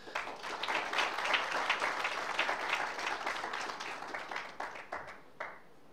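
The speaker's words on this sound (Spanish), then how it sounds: "Por favor, un gran aplauso para ustedes." Audience applause at a national primary-care gastroenterology course in Colombia: dense, steady clapping from a large seated crowd that holds for about five seconds, then thins and fades out.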